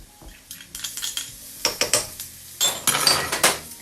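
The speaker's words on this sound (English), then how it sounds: "Give that a stir through." A spoon stirs chilies in a cooking pan for a smoked aubergine curry, making a quick series of close, bright metallic clinks and scrapes, some in fast clusters, over a faint sizzle.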